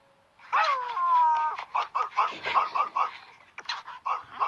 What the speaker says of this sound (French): J'avais enregistré Barnabé, son chien, juste au cas où on en aura besoin